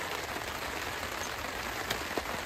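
Heavy rain pours steadily onto a car and its surroundings during a mountain camping stop, a dense, constant hiss with a couple of louder drips near the end.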